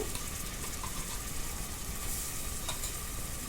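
Onion frying in a pressure cooker for chicken curry, a dense, steady sizzle that holds throughout at close range with no talk.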